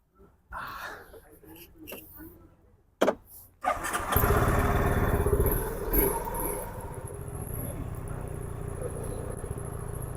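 A motorcycle engine cranks and catches after a few seconds, then settles into a loud, steady idle with a throaty exhaust rumble close by.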